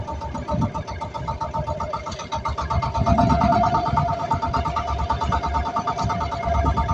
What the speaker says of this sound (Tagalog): Natatakay sa yanig ng makina.